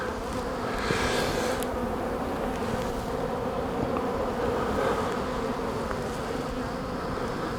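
Honeybees hum densely around an opened hive box from a colony that has recently swarmed, a steady close buzz holding throughout with individual bees droning past.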